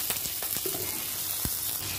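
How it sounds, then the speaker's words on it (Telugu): Tempering seeds frying in a pan for a Telugu besan okra fry, giving a steady close sizzle with a few sharp pops and crackles, with no talk. "ఒక బాండీ పెట్టుకొని తాలింపు గింజలు మొత్తం ఇలా వేసేసి వేగించండి"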